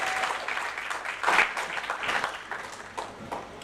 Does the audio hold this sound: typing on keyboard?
no